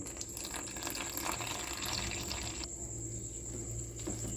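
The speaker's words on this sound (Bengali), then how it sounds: "এবারে আমি অল্প অল্প জল দিয়ে একটা ব্যাটার কিন্তু তৈরি করে নেবো" Water poured gradually into gram flour batter seasoned with cumin for spiced brinjal fry, a steady running trickle heard close and alone at a constant level.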